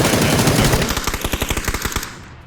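Automatic gunfire in PUBG: a rapid, rhythmic string of about a dozen loud shots from a nearby weapon, trailing off into a short fading echo, with no voices.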